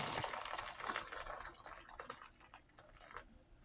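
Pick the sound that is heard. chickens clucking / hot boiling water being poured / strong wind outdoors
hot boiling water being poured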